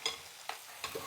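Green chilli and chopped tomato fry in a pan, a quiet sizzle under a few soft scraping stirs spaced at regular intervals, close up and faint.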